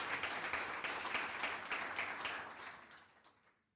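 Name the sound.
audience applause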